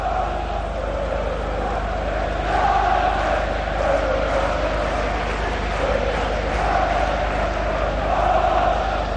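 A large football crowd fills an all-seater stadium with a sustained roar and rising chants at an Ipswich versus Leeds match, loud and unbroken throughout.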